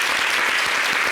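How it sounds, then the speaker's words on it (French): Brief, dense applause from a TV studio audience saluting the winners of a national cup, loud and close with no voices over it. "Est-ce qu'on peut les applaudir?"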